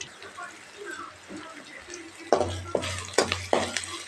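Chopped onions fry in a pan for a tamarind rice dish, with soft sizzling and bursts of stirring and scraping toward the end while a voice talks over the cooking.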